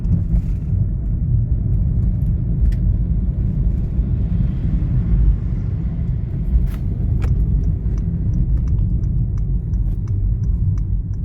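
A car drives along a road and turns around, its engine and tyre rumble steady and close throughout with no talk, a few faint clicks near the end.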